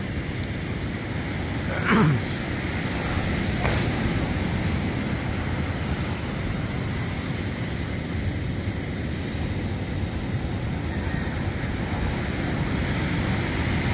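Continuous wash of ocean waves with wind buffeting the microphone, a few brief clicks and knocks early on, and no speech.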